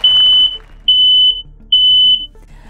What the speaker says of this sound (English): Smoke alarms make a beep, beep, beep sound, and it sounds like this.